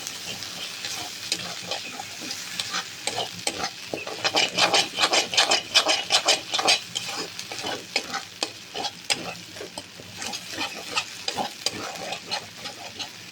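Frying and stirring for raw banana kofta curry, a steady sizzle under quick scraping strokes of a spoon or spatula in the pan, close and rhythmic with bursts of busier stirring.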